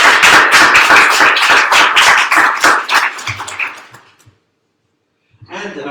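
Audience at a panel discussion applauding Professor Mieth: steady clapping for about four seconds that fades into silence, then a brief burst of other sound near the end.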